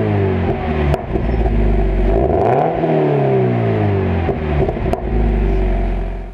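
A Toyota 86 / Subaru BRZ / Scion FR-S sports car with an aftermarket exhaust and a large muffler revs up close. The engine climbs and falls in pitch in several loud surges, with sharp clicks between them.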